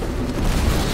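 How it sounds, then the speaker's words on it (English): A single loud, booming blast from a satchel charge in the video game Titanfall, a dense low rumble lasting about a second, close and alone. "Oh, satchel charge. It blew me up."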